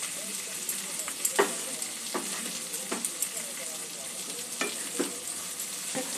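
Green moong and potato curry with spices is stirred in a pan over steady sizzling, with a spoon scraping and tapping the pan at irregular intervals.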